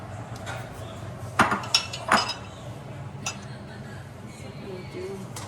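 Sauce and oil are spooned over a bowl of Hủ Tiếu Nam Vang noodles, producing a few sharp clinks of a spoon against dishware, close and brief, over a faint room hum.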